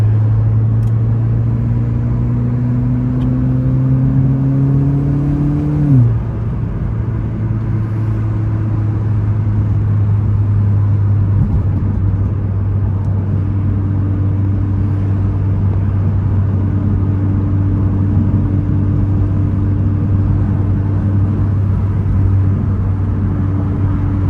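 A modified 2022 Acura ILX A-Spec drives on the road with a steady, loud engine drone and road rumble. The engine note climbs briefly, drops sharply as the car shifts, then settles into a constant cruising hum.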